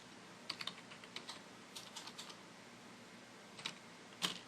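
Keys tapped on a computer keyboard being used to drive a scroll-saw stencil printer, a few scattered keystrokes and short bursts spread out over a quiet room, faint and close.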